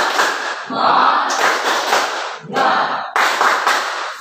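Group of children clapping a rhythmic spirit clap in a classroom, loud bursts of hand claps in quick patterned sequence with short pauses between phrases.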